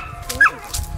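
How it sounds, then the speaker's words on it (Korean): A dog on a rural hillside farm plot gives a single short, close yip or bark against quiet outdoor background. "강아지들이 짖을 수 있으니까 조금 소음은 있을 수 있습니다."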